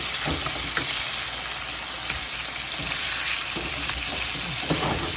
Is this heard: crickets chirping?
no